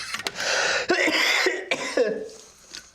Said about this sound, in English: There's that cough of mine.